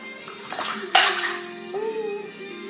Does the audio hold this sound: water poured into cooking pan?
yes